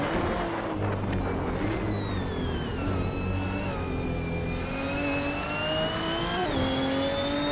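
A 2011 Peugeot 908 race car engine holds a loud, sustained whine whose pitch slowly falls and then climbs again, with other car engines droning close by and no voices.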